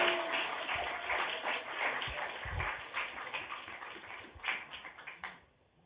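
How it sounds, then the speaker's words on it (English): An audience at a democracy and freedom festival gives students a round of applause, dense steady clapping from a crowd that builds briefly and then tapers off into quiet. "let's give them one more round of applause"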